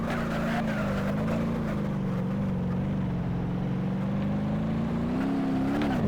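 A car engine in the BeamNG.drive driving game drones continuously with a steady mid-low hum that rises and dips slightly as the throttle changes, loud and unbroken throughout.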